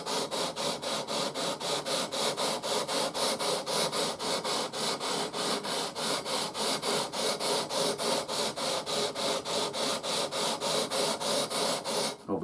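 Fine 300-grit sandpaper is rubbed back and forth over a Stratocaster guitar body in a steady, even rhythm of rapid rasping strokes, close up and moderately loud, with no talking.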